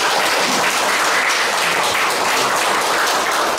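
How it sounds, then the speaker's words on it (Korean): Audience applause at a university special lecture, a steady dense wash of many hands clapping throughout, loud and even with no pauses. "감사의 박수를 한번 다 같이 쳐주겠습니다."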